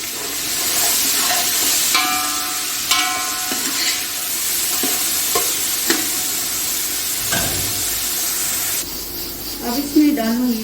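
Onion goes into hot oil in a pan while cooking namkeen gosht, followed by a loud steady sizzle and hiss with occasional clinks and scrapes of stirring, continuing close up with a brief voice near the end.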